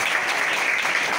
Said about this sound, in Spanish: Quiero que abracéis con vuestro aplauso a David Venegas, por favor.